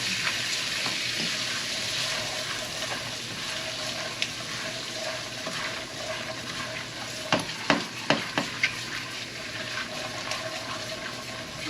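Onion and garlic fry in a pan for an alligator curry, giving a steady loud sizzle with a few sharp clicks of a utensil stirring near the end.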